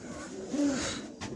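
Soft, low pigeon cooing murmurs in a steady outdoor background, the calls blending together rather than standing out as distinct phrases.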